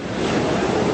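Sea waves wash against a rocky coast as a continuous, loud rush of surf with wind noise, heard alone for a moment.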